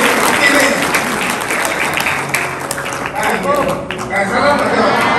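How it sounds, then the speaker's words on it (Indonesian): A crowd at a Ramadan charity gathering for an orphan pesantren claps in sustained, dense applause, loud and close, continuing for several seconds with some talk underneath. "Kita beri tepuk tangan terus ya"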